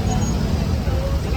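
Roadside traffic jam during a village Shimga festival in Konkan, with a dense, steady rumble of cars, buses and engines close by and a murmur of crowd voices mixed in throughout.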